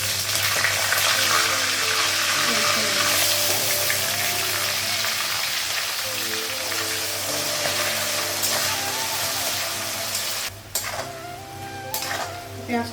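Cauliflower sizzles and fries in oil in a pan, a steady close hiss with occasional stirring and clinks of utensils against the pan, running continuously before dropping a little near the end.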